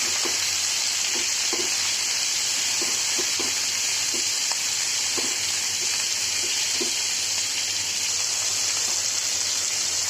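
Steady sizzling of capsicum frying in a pan, with a constant hiss and occasional soft stirring clicks, no voices.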